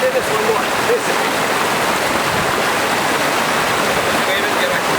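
A small mountain stream flows with a steady, close rushing and burbling of water that stays even and unbroken throughout.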